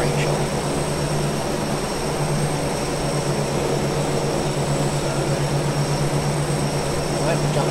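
Propeller engines of a C-130 in the Captain Sim flight simulator drone in a steady, loud, unbroken roar with a constant low hum throughout, heard from outside the aircraft.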